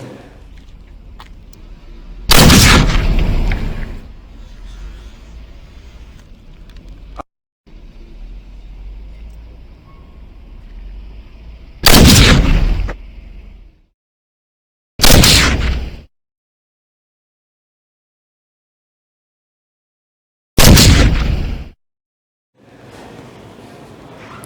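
A gun firing bullets in a physics demonstration of recoil, four separate loud sharp bursts spaced several seconds apart, each cutting off abruptly, between stretches of low background noise and near silence.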